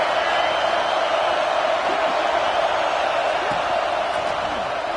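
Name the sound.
stadium crowd cheering at an American football game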